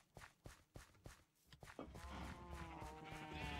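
Sheep bleating in the Minecraft video game, a wavering bleat entering after a run of soft rhythmic footsteps, faint and with no talk over it.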